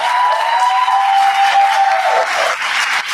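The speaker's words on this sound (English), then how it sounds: "The interns all deserve a round of applause." An audience claps for the interns at a slam jam final, a dense burst of steady applause that stays loud before thinning slightly near the end.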